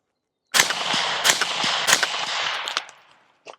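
A rapid series of loud, sharp suppressed rifle shots from a CMMG rifle fitted with a KK Industry suppressor mount, three hard cracks with continuous ringing and echo between them, trailing off into a faint final pop.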